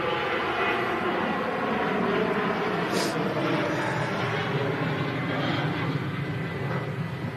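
A Transavia airliner takes off from Manchester Airport, its engines giving a steady, broad roar that carries from a distance and holds level throughout, with no voices over it.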